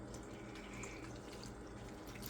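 Warm water runs from a tap for cheese bread dough, a steady hissing, splashing stream with a faint low hum, continuous and fairly quiet, without speech.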